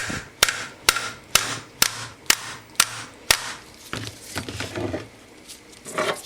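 A Honda N600 axle assembly is tapped with sharp, evenly spaced metallic knocks, about eight in a row, followed by softer, scattered clinks nearby.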